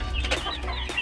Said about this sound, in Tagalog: Ito yung kanyang mga free range na mga inahin